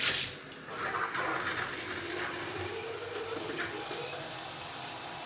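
Water gushes steadily from a tap in an empty luxury apartment, a continuous loud hiss and splash near the microphone that starts with a brief surge and holds evenly throughout.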